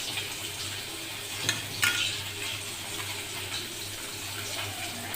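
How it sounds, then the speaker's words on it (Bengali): Two pieces of catla fish fry in hot oil in a pan, giving a steady, close hiss and sizzle with a couple of brief louder crackles or spatters. "এখন ভাজা হচ্ছে কাতলা মাছের পিস, দু টুকরো কাতলা মাছ"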